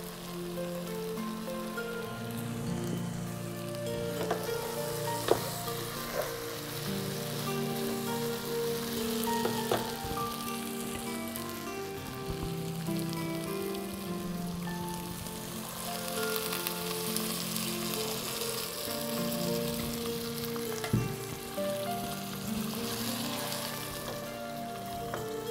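Raw jackfruit biryani with dried chillies cooking in a pan, a continuous crackling sizzle with occasional scrapes and clinks from stirring throughout.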